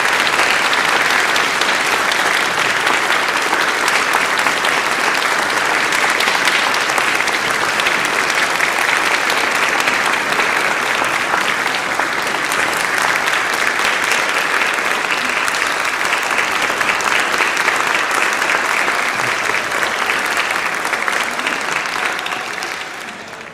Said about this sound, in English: Let's have one more round of applause.